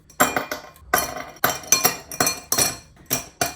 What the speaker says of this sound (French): d'abord on met les glaçons